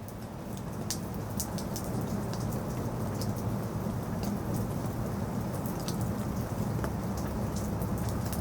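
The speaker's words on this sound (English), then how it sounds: "We also have the rain from outside becoming muffled." Steady rain heard from indoors for a rain-scene sound design, a dense, even hiss of falling drops with scattered sharper patters, muffled as it stays constant throughout, no talking.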